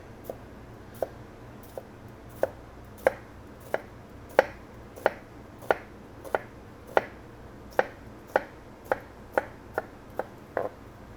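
A knife chopping diced onion on a board, about sixteen crisp, evenly spaced close knocks over a quiet kitchen background, no talking.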